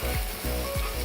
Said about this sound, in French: ajouter mon riz en le brassant